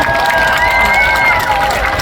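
Large outdoor festival crowd at the Seoul Rose Festival clapping and cheering, a dense, continuous wash of applause and shouts with a voice calling out over it.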